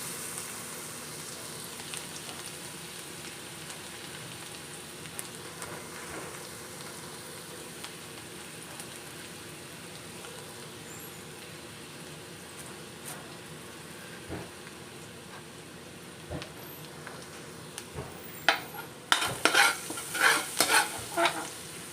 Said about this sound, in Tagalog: Ngayon, igisa muna natin tong garlic.